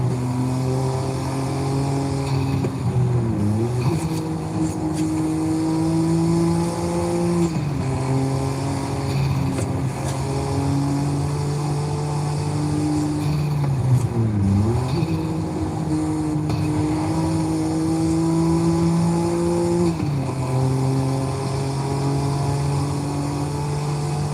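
A BMW M1 engine in Forza Horizon 5 drones steadily at high revs, with pitch dips at gear shifts repeating every few seconds, loud and continuous with no talk.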